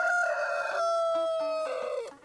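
A rooster crows once, loud and close, with a long sustained harmonic call that holds steady and then trails off at the end, with no other sounds around it.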